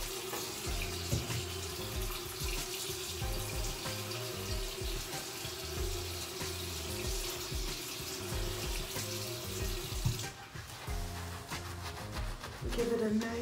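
Steady running tap water splashes continuously during a natural hair wash while wet hair is shampooed, with a rough rustle at close range and a few sharper splashes near the end.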